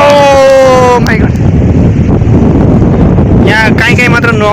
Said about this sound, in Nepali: हावा पनि यस्तो दामी दामी खतरा खतरा चल्न छ